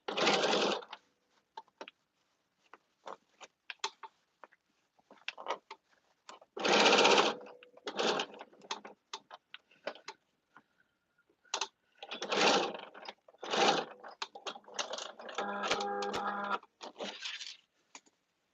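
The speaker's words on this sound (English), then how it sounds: "And you just stitch. Do a little back stitching." A sewing machine stitches a caftan in short bursts of rapid whirring, stopping and starting repeatedly, with a slower back-stitch run near the end and small clicks between.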